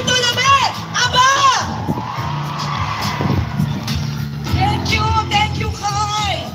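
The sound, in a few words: audience applauding and cheering for a host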